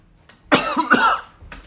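A person coughs twice in quick succession, loud and close, followed by a faint rasp, while suffering a cough that medicine has not eased.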